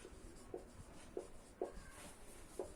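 Pen or pencil writing out maths working by hand for a perimeter and side-ratio problem, a soft continuous scratch with four short distinct strokes at regular intervals, close and quiet.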